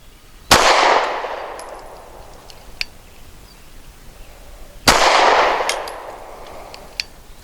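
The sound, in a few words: Walther PPS M2 pistol shots fired at target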